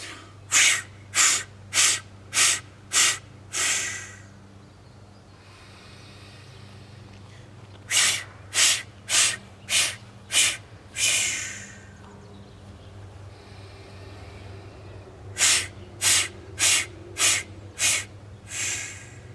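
Deep, rhythmic breaths during a yoga breathing exercise, with three bursts of rapid, forceful exhalations, each about five or six short sharp puffs, separated by longer quieter breathing, close and alone over a low steady hum.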